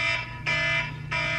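An electronic alarm goes off in a room, sounding in loud, pulsing bursts about every half second over a low steady hum, with no talking.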